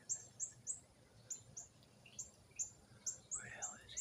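A cardinal gives a series of sharp, high peeps at a steady rhythm, about a dozen short chips in a row, fairly faint and outdoors, with a grackle moving in a tree nearby.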